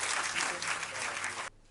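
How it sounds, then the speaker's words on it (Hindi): Audience at a poetry recital giving enthusiastic applause, a short burst of dense clapping that cuts off abruptly. "जोरदार तालियां"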